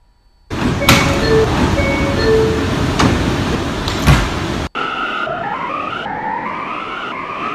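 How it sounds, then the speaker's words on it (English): Doors of an R179 A train in a Roblox subway game slide and thump shut, then the train hums and whines as it starts moving, rising motor tones following the closing. "Stand clear of the closing doors, please."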